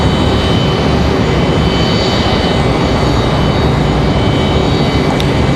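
A Frontier Airbus A320neo jet at Raleigh Durham airport gives off a loud, continuous broadband engine roar that holds steady and fills the whole stretch, with no talking.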